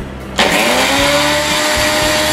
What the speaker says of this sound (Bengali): রসুনটাকেও ব্লেন্ডারে ব্লেন্ড করব।